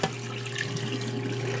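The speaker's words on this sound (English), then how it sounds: "I have my water that's really boiling." A pot of salted water at a rolling boil for parboiling fingerling potatoes gives a steady bubbling, hissing rush, close and continuous with no talk.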